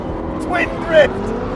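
McLaren P1 and LaFerrari hypercars drift side by side on a race track with tire-smoking oversteer, engine noise rising briefly and close over a steady roar, with people talking over it.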